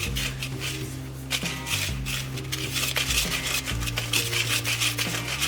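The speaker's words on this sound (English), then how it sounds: "I'm just going to whisk this together until they're all combined." Flour, baking powder and salt are whisked together in a bowl for lemon donuts. Close, continuous scraping and rubbing strokes run over a low steady hum with faint musical tones underneath, and no one speaks.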